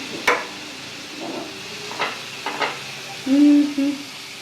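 Green chilies get stirred in a cooking pan: a faint low sizzle beneath scattered spoon clicks and scrapes, with a louder rasping stir near the end.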